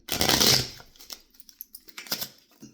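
Two decks of playing cards are shuffled up close: a quick riffle burst followed by a string of soft, crisp card taps and bridge flutters, fairly quiet with no talk.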